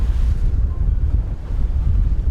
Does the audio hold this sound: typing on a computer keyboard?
no